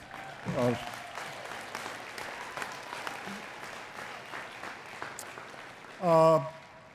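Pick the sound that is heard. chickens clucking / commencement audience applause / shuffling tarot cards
commencement audience applause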